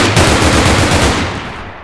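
Rapid automatic bursts from an AK rifle in the Roblox game Blood Debt, loud and close, a tight stream of shots that tails off quickly at the end.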